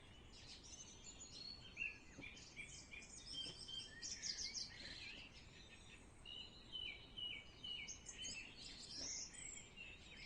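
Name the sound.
birds chirping sound effect in a visual novel video game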